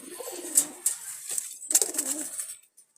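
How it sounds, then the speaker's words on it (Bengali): Jalali pigeons cooing close by, a few soft throaty coos in quick succession with some light shuffling, then quiet at the end. "এখানে কিছু কবুতর আছে"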